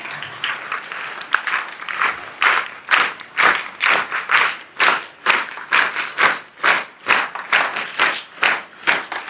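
An audience at the JNB school Ganesh festival applauds loudly to welcome DYSP Manishaben Desai. The clapping comes in strong rhythmic unison surges, beat after beat, filling the hall for the whole stretch.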